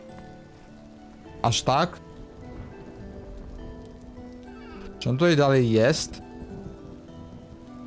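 Steady rain falls in the video game Vintage Story, a soft continuous hiss that runs beneath a man's speech in Polish, with two brief louder animal-like bleats standing out.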